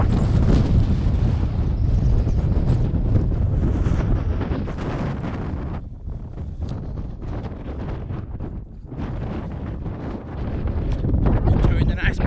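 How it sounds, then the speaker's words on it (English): Wind buffeting a microphone on an exposed hill trail during a run near Sheffield: heavy, continuous rumbling gusts that dip briefly and then surge loud again, close and overwhelming. "that wind's really starting to nip now"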